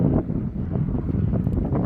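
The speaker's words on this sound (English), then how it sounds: "Oh boy, it's windy, so I don't have my wind mic with me." Strong wind buffets an unshielded microphone on a mountain overlook along the Blue Ridge Parkway in western North Carolina, a loud, rumbling low roar that surges and dips throughout without any speech.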